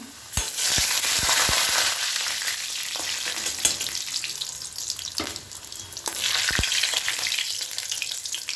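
Steady, loud sizzling of potatoes frying in hot oil, with occasional sharp crackles and pops throughout; no voices.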